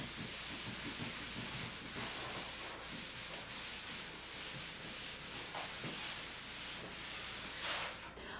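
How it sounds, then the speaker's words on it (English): Stain is buffed into the wood of a mid-century modern credenza, heard as a steady, close rubbing and sanding hiss with rhythmic strokes and no talk. "lastly, I am buffing the stain and preparing it for top coat"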